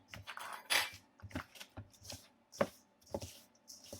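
Hands mixing a bath bomb mixture that feels like wet sand, producing a series of soft crumbly squishes and rubbing scrapes in an irregular rhythm, close up and quiet.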